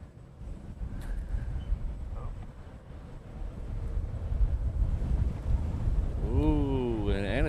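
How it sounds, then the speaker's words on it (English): Strong wind gusting across a microphone outdoors at Honolulu airport during planespotting, a steady low roar throughout, with a voice speaking briefly near the end. "it's very windy"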